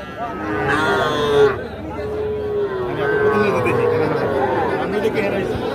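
Calves and cattle moo repeatedly at Ambari weekly cattle market in Parbatipur, Dinajpur, with one loud, close bellow over steady crowd chatter and hubbub.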